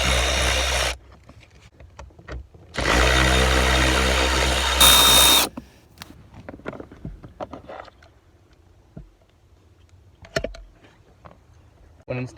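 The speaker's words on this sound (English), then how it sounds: "let's go ahead and remove the 2 bolts that hold it in." A 5.5 mm socket turns out two bolts holding the blower motor of a 2004–2015 Nissan Titan. Two loud bursts of power-tool whirring stand close by, then come quieter clicks and handling noises with no voices.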